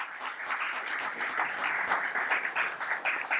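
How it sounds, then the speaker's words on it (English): An audience at a business forum breaks into steady, moderately loud applause, with many hands clapping in a dense, continuous patter. "let's give them a round of applause."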